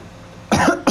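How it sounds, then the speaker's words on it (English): A cough from a player during a GTA 5 Online trash truck mission, two sharp, close, loud bursts, the second shorter, after a quiet lead-in. "I don't even know where that cough came from."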